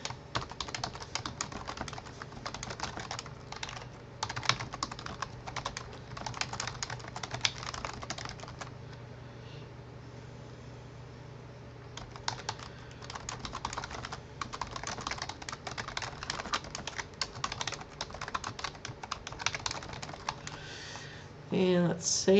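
Someone types on a computer keyboard, rapid clusters of close key clicks in bursts with a quieter pause midway, while a person talks over parts of it.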